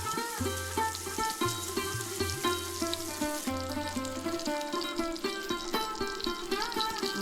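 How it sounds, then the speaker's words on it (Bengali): Rohu fish pieces frying in oil and being turned over, heard as a continuous close sizzle with nobody speaking and a loud pulsing tonal drone beneath it that fades out about halfway through. "আবারও উল্টে পাল্টে ভালো করে ভেজে নেব মাছগুলো।"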